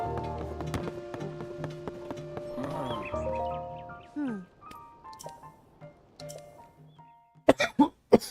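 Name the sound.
cough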